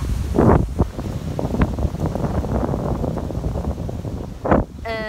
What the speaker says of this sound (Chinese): 今天真的很大风啊